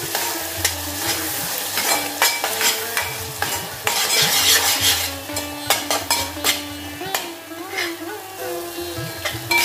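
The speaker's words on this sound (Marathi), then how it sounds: "आपण 2 ते 3 मिनिटं व्यवस्थित परतून घेणार आहोत सर्व काही।" Ground spice paste for a Marathi pavta and potato bhaji is sautéed in a pan, a steady frying hiss under frequent loud scrapes and clinks of a spoon stirring against the metal.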